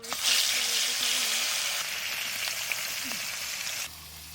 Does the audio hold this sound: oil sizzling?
yes